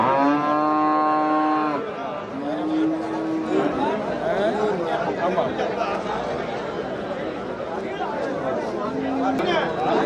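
Cattle at the Melapalayam cow market in Tamil Nadu, with a long, loud moo at the start and further shorter lows, heard over a busy crowd chatter and nearby voices.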